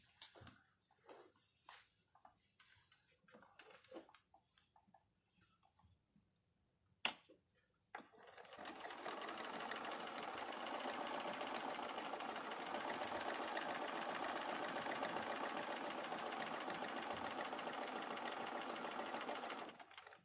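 A sewing machine stitches a seam in a steady, loud continuous run lasting over ten seconds, following a stretch of quiet handling sounds and a sharp click.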